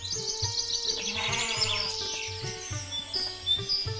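Goats bleating, high wavering cries that rise and fall, mixed with bird-like chirps over a soft rhythmic music bed at low volume.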